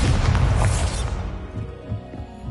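Bombarda blasting spell explosion in Hogwarts Legacy, a loud, full-bodied burst with heavy low rumble for about a second, then fading into a lingering debris-like tail.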